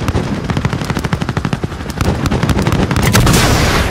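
Rapid machine-gun bursts with heavier artillery-style booms in the Call of Duty Modern Warfare video game, loud and dense, rattling steadily and building toward a rushing blast at the end.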